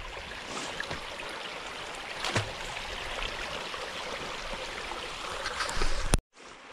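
Water running through shallow channels around beaver dams outdoors, a continuous close burbling stream with a brief louder splash midway, then cutting off abruptly at the end; nobody speaks.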